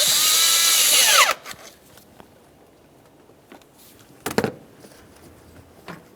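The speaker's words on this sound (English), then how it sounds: "Let's tighten that clamp." A cordless power tool whirs loudly for about a second, tightening the air inlet tube clamp on a 2012-2018 Nissan Maxima 3.5L V6, then stops, followed by soft clicks and a brief rattle of handling.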